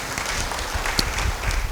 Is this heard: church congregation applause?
yes